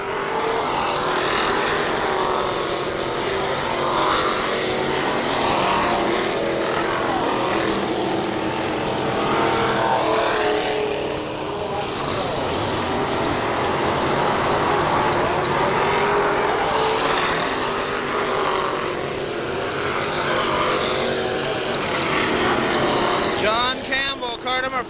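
Pure stock race cars roar around the Kil-Kare Speedway oval in a continuous loud engine drone that swells and fades as the pack passes, with a track announcer talking over it throughout.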